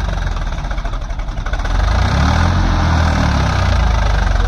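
A Swaraj 855 tractor engine runs loud and close with a deep, steady diesel throb that rises and grows heavier partway through, as if revving under load.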